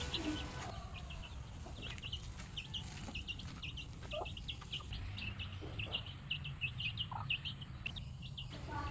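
Small chicks cheep in quick, high peeps throughout, scattered and fairly close, over a steady low rumble of outdoor background noise.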